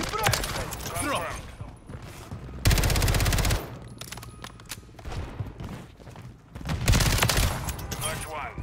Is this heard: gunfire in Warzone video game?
yes